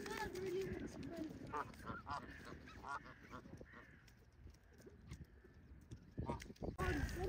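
A Canada goose at a pond honks repeatedly in short nasal bursts among other pond birds, mixed with people talking nearby.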